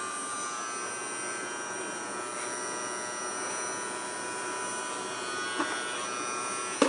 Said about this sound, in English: Wasn't it nice of Nanny to buy you this vacuum?